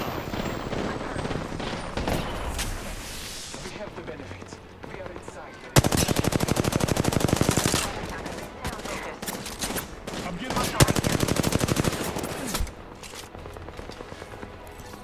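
Rapid automatic gunfire in Apex Legends, long sustained bursts of close, loud shots with brief pauses between them, layered over busy in-game combat noise.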